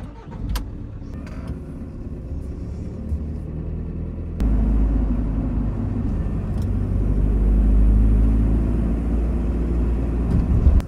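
A camper van's engine drones while driving on a road in Germany, a steady low rumble heard from inside the cabin that grows noticeably louder partway through and holds there.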